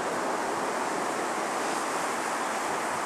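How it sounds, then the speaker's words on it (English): Ocean surf washes onto a beach in a steady, loud roar of breaking waves with a wind-like hiss and no voices. "Those waves."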